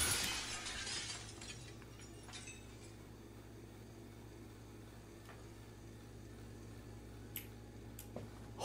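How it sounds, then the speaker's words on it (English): Glass smashes at the start with one bright, crashing shatter in Happy's Humble Burger Farm. The clip then settles into a low game hum, broken by a few faint ticks and clicks. "Who's smashing glass?"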